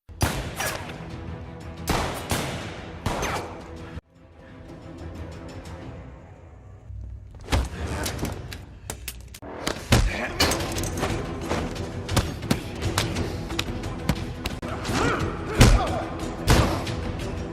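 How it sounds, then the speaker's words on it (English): Chaotic movie fight scene with gunfire and hand-to-hand combat: heavy thuds, slams and sharp gunshot-like bangs come in dense bursts, broken by a brief quieter stretch of rumble partway through. "A fight breaks out, both with gunfire and hand-to-hand combat."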